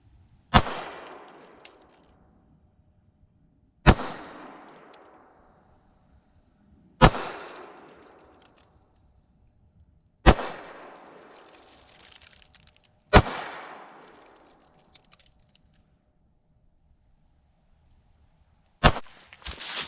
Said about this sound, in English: All right, so 6 shots.